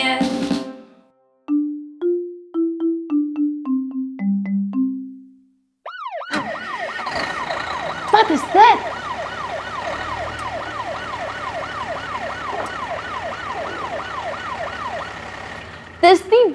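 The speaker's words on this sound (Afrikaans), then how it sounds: "Dis die brandweerwa." After a few sung notes and a short spoken question, a fire engine siren starts up and wails in rapid, repeating rising-falling cycles, close and loud.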